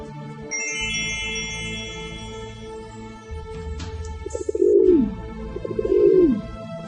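A dove coos twice in soft, rounded calls near the end, following a stretch of chiming, tinkling tones and light rustling in a bedtime-story sound effect.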